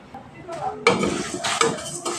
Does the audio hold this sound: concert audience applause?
no